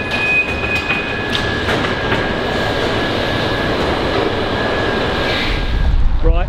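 A freight train carrying newly built Mini cars from the Oxfordshire factory rolls past with a steady, loud rumble and rhythmic wheel clatter, continuous throughout, with faint tonal squeal and wind.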